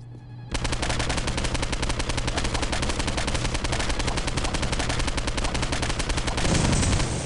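Rapid automatic gunfire from the video game Postal 2, a dense, loud, continuous stream of shots with no pauses, starting abruptly after a quiet opening and running to the end.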